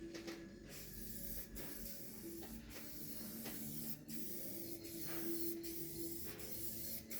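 A spray gun lays clear coat on the roof of a Land Rover Discovery 2 TD5, giving repeated hissing bursts with short pauses between passes, close and fairly quiet.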